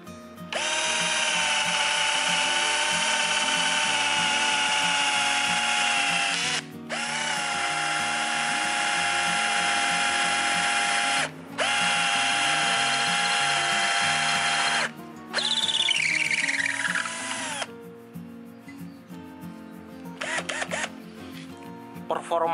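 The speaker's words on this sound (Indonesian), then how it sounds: "ini akan kita coba mengebor batang pohon ini ya" A Black and Decker 18V BCD003C1 cordless hammer drill with a wood bit bores into a tree trunk in several long, loud, steady whining bursts separated by short pauses, the motor pitch dipping under load before trailing off into clicks.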